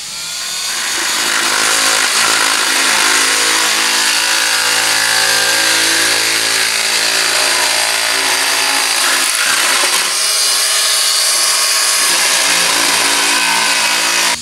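Sheet metal cut along a scribed line with a loud, whining power tool that drones continuously and close for the whole stretch, its pitch wavering slightly as it bites through the metal.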